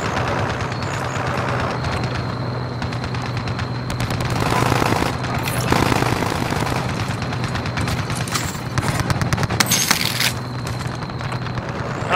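A mounted gun firing in a video game, with long sustained automatic bursts rattling loudly and continuously, punctuated by sharper cracks and booms, and no talking.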